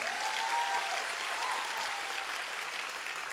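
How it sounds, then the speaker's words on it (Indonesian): A large crowd claps at an outdoor Islamic sholawat gathering, a dense, sustained wash of applause that stays strong throughout and tapers only slightly toward the end. "saya minta tepuk tangannya semangat dengan acara sholawatan hari ini"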